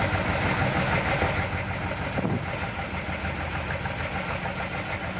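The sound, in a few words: engine of Chinese warship, hull number 172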